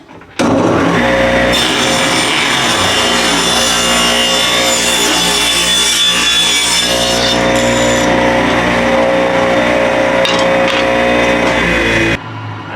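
A power saw cuts a piece of wood down to 1 inch wide for a picket fence project, a loud, close, continuous whine and grinding rasp holding for about twelve seconds before cutting off.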